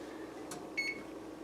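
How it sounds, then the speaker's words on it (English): An oven timer goes off for baked spaghetti with a single short, clear electronic beep after a faint click, heard over a low kitchen hum. "there is the 1-minute timer on my baked spaghetti"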